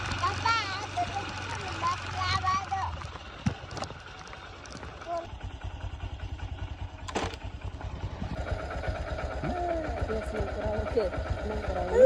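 A tractor engine chugs steadily with a low, pulsing rumble throughout, while people talk over it close by.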